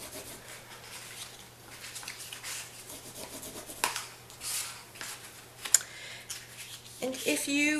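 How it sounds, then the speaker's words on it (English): Sandpaper rubs back and forth over the edges of a paper moon shrine craft piece to distress them, a soft, close, scratchy rasping in uneven strokes with a few sharper scrapes near the end. "we can sand down those edges and distress them a little bit"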